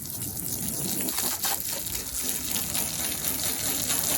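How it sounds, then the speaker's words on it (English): Water spraying onto Tesla Model 3 car windows to rinse off a vinegar and water mixture, a continuous close hissing splash with no voices. "Now you want to spray off this vinegar and water mixture really well."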